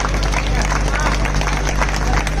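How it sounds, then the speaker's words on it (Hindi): A crowd at a political rally for a legislative assembly candidate in Bhiwandi claps and cheers in a dense, continuous wash of applause, loud and close, with voices mixed in. "ताली बजा दीजिए जरा सर के लिए।"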